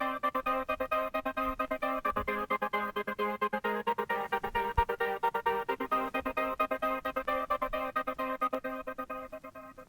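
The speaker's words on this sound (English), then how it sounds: "It's in analog. Just saw waves. I have two saw waves." An analog synth patch built from two saw waves, one pitched an octave above the other, plays a steady melodic line in a future garage style. A buzzy, sustained tone pulses rhythmically throughout at moderate level, and nobody speaks.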